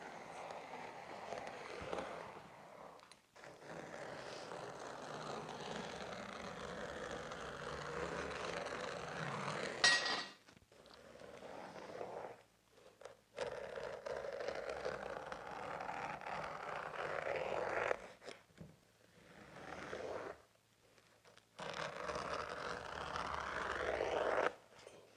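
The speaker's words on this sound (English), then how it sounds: "I'm going to go ahead and row cut this side of this piece and all of these sides on my fill pieces" A carpet row cutter slices along the edges of carpet pieces being trimmed for cross seams, giving long, steady scraping and tearing runs broken by short pauses, fairly faint and with no talk.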